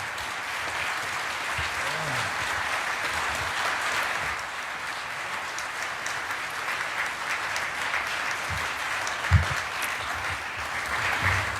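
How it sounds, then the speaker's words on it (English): Audience applause for an honored speaker, Captain Charles Plumb, a dense steady roar of many clapping hands lasting the whole stretch, even and fairly loud, with a few brief low voice murmurs underneath. "One more time, big round of applause for an inspired leader."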